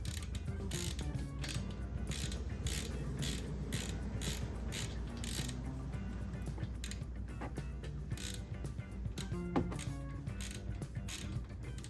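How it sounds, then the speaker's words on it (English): A hand ratchet clicks steadily while loosening Lexus brake caliper bolts, its quick repeated pawl ticks close and fairly quiet over a low background hum, with no talking. "Grab our ratchet."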